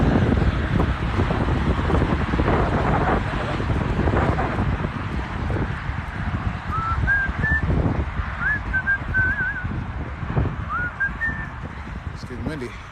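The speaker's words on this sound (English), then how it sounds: "It's getting windy." Wind blows outdoors at a Halloween trunk-or-treat car show in Ohio, a steady gusty rush across the microphone with faint bird whistles and calls in the background.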